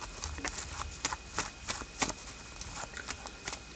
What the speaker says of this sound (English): Extra shuffle there because I lost control.